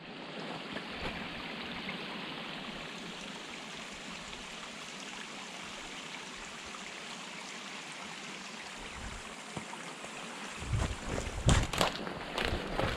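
Steady stream water flows through a marshy, snowy forest, a continuous broadband rush close to the microphone, with a few louder splashes and knocks near the end.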